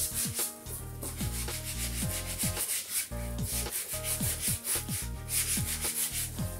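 A disposable sponge scrubs a plastic bath chair dirty with soap scum and mould, giving steady rhythmic rubbing strokes with squeaky, scratchy texture, close and continuous.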